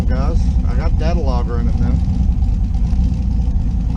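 A car engine fitted with a JEGS XHD torque converter runs steadily under throttle, a continuous loud mid-pitched drone with rising and falling tones, while someone talks over it.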